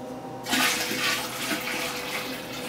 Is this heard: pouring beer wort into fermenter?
yes